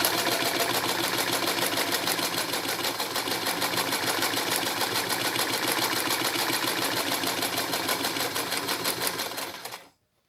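Sewing machine running steadily as it stitches fabric along a seam margin, a dense rapid mechanical chatter held at even loudness for about ten seconds before stopping abruptly, with no talking.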